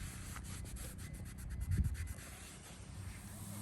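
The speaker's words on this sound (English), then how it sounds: "we're going to go ahead and just wipe this one down as well and get it nice and clean" A rag rubs and wipes a metal car suspension part on a 2003–2004 SVT Cobra, giving a soft, continuous close-up scrubbing with quick repeated strokes and no talking.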